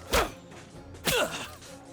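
Arrows striking armored enemies during bow training against leather armor in the Lost Eidolons video game, heard as two sharp game-effect thwacks about a second apart, with no talk over them.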